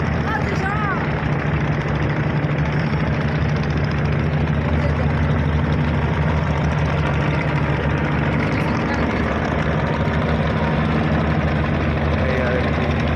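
A passenger launch boat pulls away from a launch ghat in Bangladesh, its heavy engine droning and chugging steadily and close by, with people talking over the noise.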